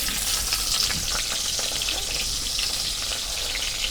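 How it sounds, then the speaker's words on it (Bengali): Chopped onions frying in hot white oil for chicken biryani over a clay stove, a dense steady sizzle that hisses continuously at close range and moderate loudness. "তেল গরম হচ্ছে এখন আমি পেঁয়াজ কুচি দিয়ে দেব"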